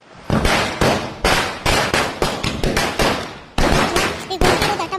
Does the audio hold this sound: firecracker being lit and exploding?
yes